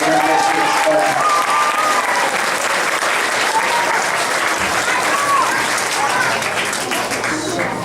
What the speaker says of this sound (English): go ahead and give him a nice round of applause there